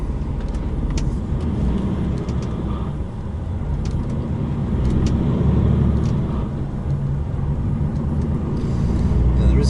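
A truck pulls away and gets underway in the dark early morning in Belgium, its engine rumble steady and close from the cab, swelling gradually as it gathers speed.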